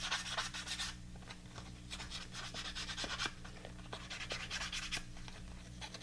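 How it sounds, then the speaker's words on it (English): Soft, rhythmic rubbing and scratching of light sanding on paper, close and quiet, repeating strokes with no talking. "I'm doing like a light sanding."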